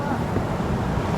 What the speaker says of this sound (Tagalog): Dahil sa mga alon